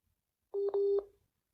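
Three telephone keypad tones ring out in quick succession as a number is dialed, the middle tone longest, clear and fairly quiet with no talking over them.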